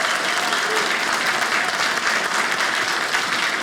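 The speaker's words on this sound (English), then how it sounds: "Give them a round of applause" Dense, steady applause from a comedy show audience honoring retired police officers fills the room evenly, a continuous wash of many hands clapping with no talk over it.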